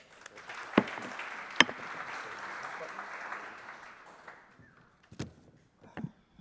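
Audience applause at a new-beverage showdown finals event, a soft wash of clapping running for a few seconds and fading out, with a few sharp louder claps standing out.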